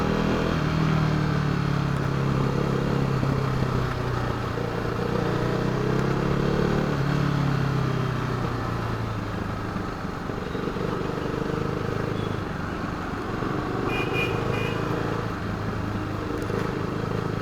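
A KTM RC390 motorcycle being ridden produces a steady engine drone with rising and falling pitch as it shifts and revs, heard close along with road and wind noise in what sounds like traffic.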